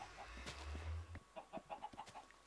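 Chickens cluck in Minecraft, a run of short, soft, rhythmic clucks in the second half following a low thump and other game noise.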